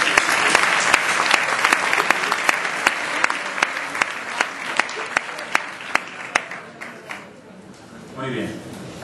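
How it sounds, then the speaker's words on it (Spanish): Audience applause at a national marketing awards ceremony, a sustained round of clapping from a crowd with sharper individual claps, fading out near the end as talk resumes. "Un aplauso, por favor."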